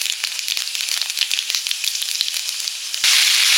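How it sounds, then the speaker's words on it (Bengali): Panch phoron spices sizzle loudly in hot mustard oil with close, crackling pops, and the hiss swells sharply near the end. "সরষের তেল দিয়ে দিলাম, পাঁচফোড়ন"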